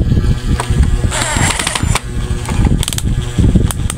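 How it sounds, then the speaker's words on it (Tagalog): Screws being tightened with a power driver on a homemade extension outlet, a loud close mechanical whirring with ratcheting clicks that surge and pause over a few seconds. "hihigpitan na natin ang todo yan"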